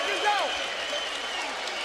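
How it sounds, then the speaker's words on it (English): A Polish crowd at a heavyweight boxing bout between Tomasz Adamek and Johnathon Banks roars in a steady, distant wash of cheering under a commentator's voice. "There's the Polish crowd."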